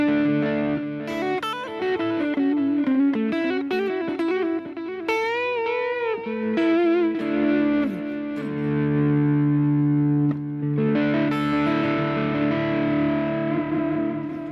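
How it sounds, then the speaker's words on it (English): An electric guitar played through an overdrive distortion pedal on a pedalboard with reverb and delay, loud gritty notes and sustained chords ringing with effects, played alone. "You want to hear the overdrive."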